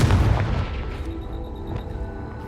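A Confringo fire spell blasting in a wizarding adventure game, with a deep booming explosion up front that fades into a rumbling tail, loud and close with no talk.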